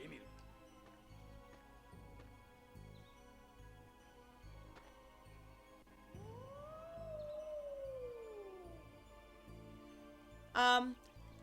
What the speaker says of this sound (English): That howl again?